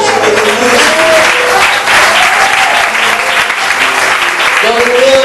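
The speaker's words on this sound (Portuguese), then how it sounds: "Você pode aplaudir o Senhor Jesus?" A church congregation applauds loudly and close, the clapping mixed with shouts and voices calling out throughout, and a speaking voice rising again near the end.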